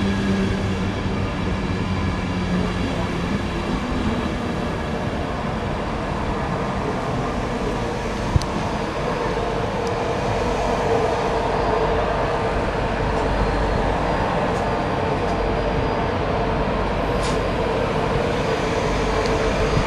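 Steady, continuous rumble of a train running along the rails, with a constant broadband roar and faint squeaks throughout, no voices.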